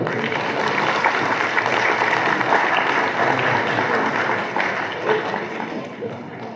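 An audience at a student prize distribution ceremony applauds steadily, a dense, sustained wash of clapping with some voices mixed in, easing slightly near the end.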